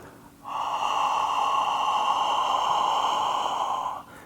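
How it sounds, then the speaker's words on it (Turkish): A long, steady ujjayi yoga breath pushed out through an open mouth with a throaty, hissing rasp, lasting several seconds before trailing off. "Yeniden al nefesini ve ağızdan ver."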